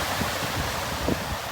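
Ocean surf washing across a beach in a Boston blizzard, a steady broadband wash of water and wind roar with a few faint swells, no talk.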